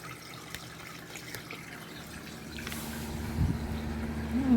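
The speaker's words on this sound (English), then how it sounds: "start filling the rad up" Coolant is poured into the radiator of a 2005 Chevy Aveo 1.6L during a water pump and timing belt job. It makes a faint liquid trickle that grows a little louder and fuller toward the end.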